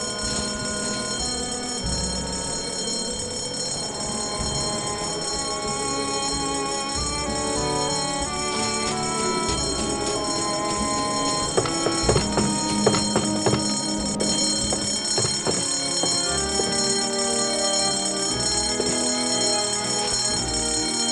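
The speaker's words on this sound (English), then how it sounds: "False fire alarms cost lives." A fire alarm bell rings continuously in the video game Escape from Monkey Island, a steady metallic clangor layered over busy game music, with no voices.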